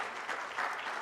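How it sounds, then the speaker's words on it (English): Short burst of audience applause at a corporate CSR summit and awards event, dense clapping from a hall crowd. "A round of applause, please."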